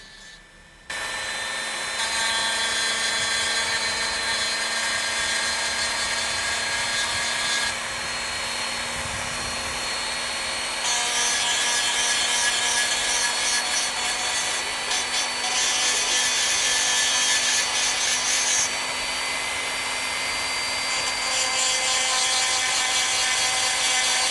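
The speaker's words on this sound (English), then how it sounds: "it is time to use my Dremel in order to create some damaged spots on this body" A high-pitched Dremel rotary tool whines continuously for a long stretch, its pitch shifting slightly as it grinds a plastic model car body, close and loud.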